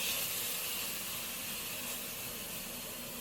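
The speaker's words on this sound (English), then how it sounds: "Okay, so I'm gonna put the steak in." Steady broadband sizzle of a New York strip steak searing in a hot pan at home, a constant loud hiss with no talking.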